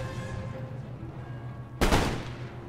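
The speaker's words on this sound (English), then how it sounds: "Fire into the rear of the grenadiers." A musket volley in Napoleon Total War, one sudden loud crackling burst of massed gunfire that fades quickly over a steady low battlefield hum.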